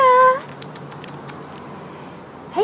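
A cat named in an outdoor catio setting gives a short meow at the start, then a series of light quick clicks or taps, and a new meow begins right at the end; close and fairly loud, no talking.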